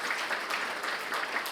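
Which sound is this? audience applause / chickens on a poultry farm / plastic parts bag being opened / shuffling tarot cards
audience applause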